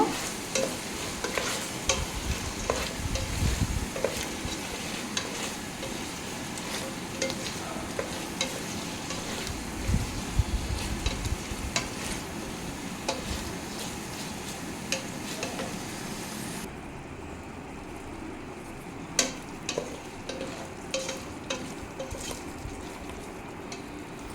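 Biryani masala powder fries in hot oil in a pan for Kolkata-style chicken biryani, giving a constant close sizzle broken by repeated scraping stirs of a spoon against the pan, with no talking.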